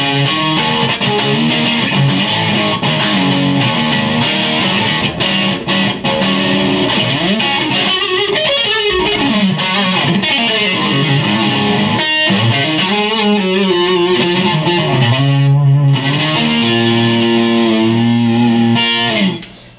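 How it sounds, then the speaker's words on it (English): A slinky, mildly overdriven electric guitar riff on the neck single-coil pickup plays continuously and loud, with bending notes and steady rhythm throughout, no voices. "This also sounds really good, I think, with the neck single coil here. You can get a little bit more slinky riff sound."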